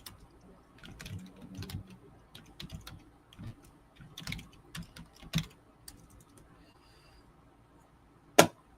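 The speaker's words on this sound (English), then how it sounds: "let me finish typing this" A computer keyboard is typed on in uneven bursts of crisp clicks, close by, with pauses and a couple of sharper louder key strikes.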